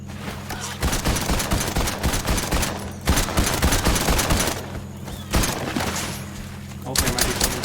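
Rapid video game gunfire rattles in dense, loud bursts broken by short pauses, with a low thumping undertone throughout.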